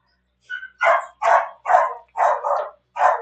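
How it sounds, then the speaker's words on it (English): A neighbor's dogs bark six times in close succession, loud and sharp, with short gaps between barks and near silence around them. "Even my neighbor dogs barked."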